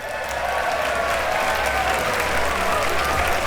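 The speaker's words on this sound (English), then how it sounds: "The chamber burst into applause." A chamber audience bursts into full applause, a dense, steady roar of many hands clapping together that holds at an even level throughout.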